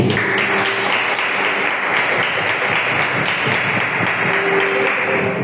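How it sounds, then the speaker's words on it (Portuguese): A church congregation claps steadily in a dense, continuous wash of applause that fills the space throughout, with no speech over it. "Palmas para Jesus, irmão."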